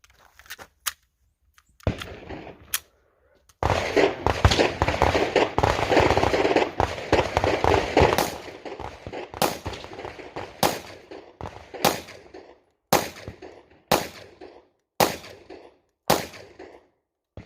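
Handgun shots firing 124 grain ammunition crack sharply outdoors, a few scattered shots followed by a dense rapid burst, then a steady string of single reports spaced about a second apart.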